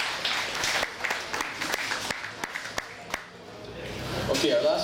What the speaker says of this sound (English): So again, big round of applause for Fred